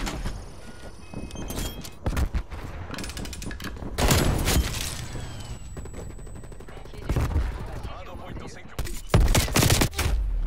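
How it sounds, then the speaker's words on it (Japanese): Call of Duty machine-gun strafing fire: several loud bursts of rapid shots with sharp impacts, separated by quieter gaps, with game noise and some talk underneath. "機銃掃射撃った"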